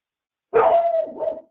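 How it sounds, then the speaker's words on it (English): A household dog lets out one loud, close, drawn-out bark that trails off into a whine, alone after a moment of silence. "Uh-oh, dog."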